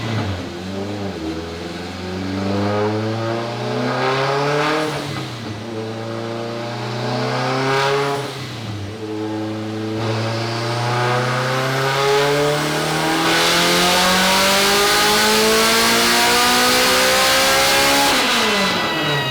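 A 730 hp Acura Integra revs through a full pull, the engine note climbing, dropping at the shifts, then climbing again over and over, loud and close, with a faint tire squeal in the mix.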